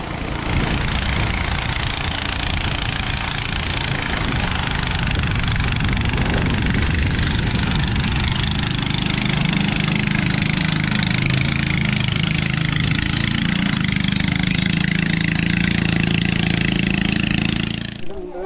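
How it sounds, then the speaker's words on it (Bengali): A motor boat engine drones steadily as the boat approaches and crosses the river at Tindu in Bandarban, a loud, constant chugging hum that holds throughout with wind and outdoor noise. "এই যে এখন একটা নৌকা আসতেছে, নৌকাটা এখন পার হবে।"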